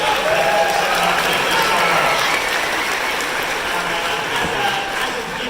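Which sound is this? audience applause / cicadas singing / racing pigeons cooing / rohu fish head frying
audience applause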